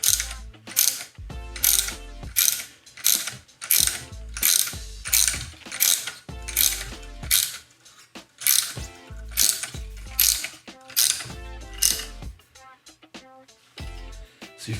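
A ratchet tightens a sway bar end link bolt on a 2014-2017 Chevy Caprice PPV, giving loud, close rapid clicking bursts repeated in a steady rhythm of back-and-forth strokes with short gaps.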